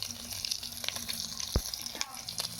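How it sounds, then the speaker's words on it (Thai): Pork rinds frying in hot oil in a home pot over a fire at night, giving a continuous crackling sizzle with scattered pops, close and fairly loud, with a little background talk. "เฮ็ดเคียบหมูกิน"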